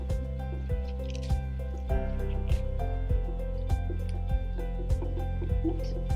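Water drips falling one at a time into a bucket with irregular spacing, each a small splashy plop over a steady low hum.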